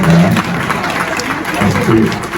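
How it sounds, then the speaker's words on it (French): Conference audience clapping at a talk on the dangers of kior, with uneven, fairly loud bursts mixed with voices in the hall. "Est-ce qu'on peut applaudir pour Gilbert?"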